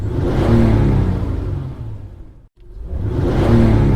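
Off-road vehicle engines in the mobile racing game Offroad Legends 2 rev loudly and steadily, swelling, dipping briefly into near silence, then roaring back up with whooshing mechanical drone.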